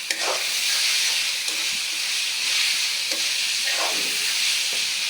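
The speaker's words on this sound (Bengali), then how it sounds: "পেঁয়াজটা যত ভাজবো তত আমার তরকারি মজা হবে" Onions fry in a pan with ginger and garlic for a pabda fish curry, giving a continuous steamy sizzle with soft stirring scrapes, close and even, no talking.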